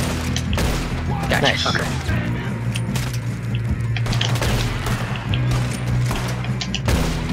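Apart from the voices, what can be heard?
lever action rifle gunfire in video game Red Dead Redemption II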